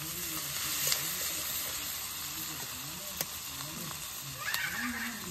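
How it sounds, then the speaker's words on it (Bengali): Onion and prawns fry in a pan with a steady crackling sizzle and occasional stirring scrapes, heard close and moderately loud with no one talking. "লাল লাল করে পেঁয়াজটা ভাজা হয়ে গেল, চিংড়ি মাছটা ভাজা হলো"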